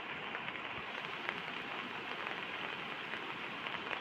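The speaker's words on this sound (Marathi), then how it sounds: "पावसाने परत एकदा सुरुवात केलेली आहे" Rain falling outdoors near a flooded river, a soft, steady, even hiss of drops on surfaces that continues unbroken and without voices.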